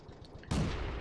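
A single tank cannon shot in the World of Tanks video game, one sudden heavy boom with a rumbling tail that follows a quieter stretch of low background noise.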